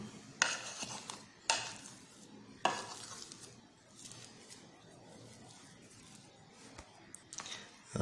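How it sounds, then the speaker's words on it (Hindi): Boiled potatoes being crushed in a bowl for aloo tikki, with several sharp clanks of a utensil against the bowl over a steady soft squishing and scraping, close and fairly quiet, no talking. "आलू को आपने इसमें डाल के क्रश कर लेना है, बिल्कुल इसको बारीक कर लेना है इसको"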